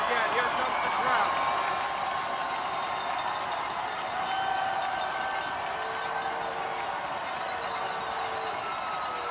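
Crowd noise swells steadily through a high school football stadium, Eisenhower vs. Anchor Bay, as a field-goal kick approaches, a continuous loud roar of many voices with a commentator talking over it.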